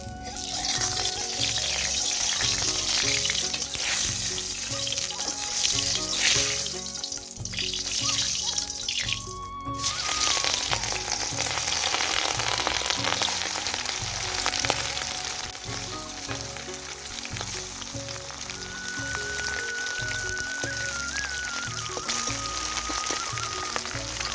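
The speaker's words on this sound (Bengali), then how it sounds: "আগে মাছগুলোকে ভেজে নেব" Fish rubbed with salt and turmeric frying in a pan, a steady, dense, hissing sizzle that runs without pause from start to finish, close and loud, with no talking.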